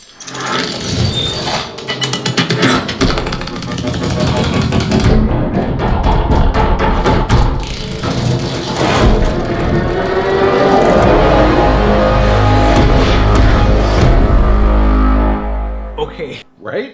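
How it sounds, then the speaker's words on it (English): Loud, dense cinematic sound effects through a home theater Atmos system, with rapid tinkling, crystalline clinks of crystal pieces and shimmering hits over a deep rumbling bass, playing continuously without talk. "Every time all those little crystal pieces are going together, there's all these little sound effects for each one"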